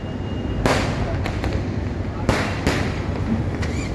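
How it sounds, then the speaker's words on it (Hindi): Fireworks and firecrackers burst on Diwali night in Delhi's Chandni Chowk area: several sharp, loud cracks and bangs ring out over a continuous crowded street din, with voices murmuring in the background. "एक लम्हा भी ऐसा नहीं था कि जब मैंने पटाखों के फटने की आवाज़ ना सुनी हो।"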